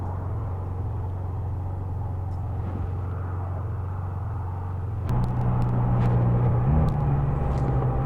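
A Can-Am Spyder F3 three-wheeled motorcycle rides along Route 444, giving a steady low engine drone with road rumble that grows louder and busier partway through as it speeds up.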